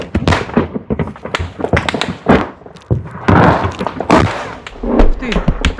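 Sharp, loud bursts of gunfire or explosions crack close to soldiers holding a defensive position near Avdiivka, several impacts in quick irregular succession over a rumbling background, with voices talking in between.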